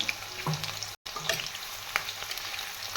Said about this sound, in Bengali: এটাকে ভালো করে একটু ফ্রাই করে নেবো